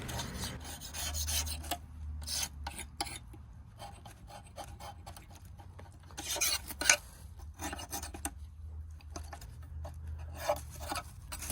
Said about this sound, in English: it definitely got soft enough for me to scrape the majority of this stuff